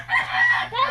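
Chickens clucking with a rooster crowing on a farm with many fowl, a short, loud, close burst of tonal calls that fills the moment.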